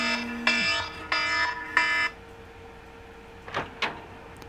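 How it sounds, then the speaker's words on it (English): A timer alarm sounds in Resident Evil 1 Director's Cut, three loud buzzing beeps in an even rhythm, followed by two softer clicks after a short pause. "And that's my timer."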